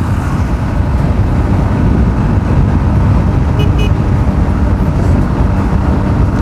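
A Bajaj Dominar 400 BS4 motorcycle cruising in fifth gear on a road, giving a continuous loud engine drone and rumbling wind noise that hold steady throughout.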